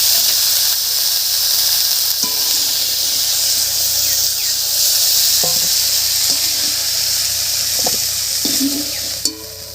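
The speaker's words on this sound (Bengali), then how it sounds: "ফুলকপিটা ভাজা হয়ে গেছে, নামিয়ে নিচ্ছি।" Cauliflower frying in oil in a wok gives a continuous loud hiss and sizzle, broken by a few short clinks and scrapes and a sharper knock near the end.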